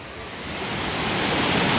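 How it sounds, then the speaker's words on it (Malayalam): Steady rushing roar of the Vattayi waterfall, a dense broadband wash of falling water that swells slightly in loudness, with no voices. "ഇതൊരു വട്ടായി വാട്ടർഫാൾസ് ആണ്"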